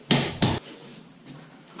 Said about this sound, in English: I'm just going to get the hammer